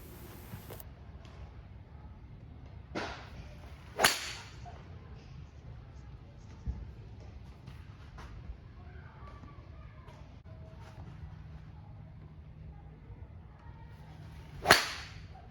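Several sharp, whip-like impacts from a single-length 3 hybrid golf club striking balls on a driving range, spaced seconds apart over low outdoor background noise.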